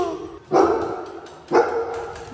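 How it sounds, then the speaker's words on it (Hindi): A dog barks twice, about a second apart, fairly close and clear, with quiet background between the barks. "गाइस भौंकने की आवाज आ रही होगी अब।"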